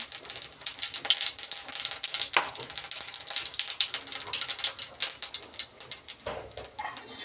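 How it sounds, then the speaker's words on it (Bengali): Cumin seeds crackle and sizzle in hot oil in a wok at home, a steady bright frying hiss with scattered pops throughout, fairly close and with no talking. "তেল গরম হয়ে গেছে, জিরে ফোড়ন দিল মা।"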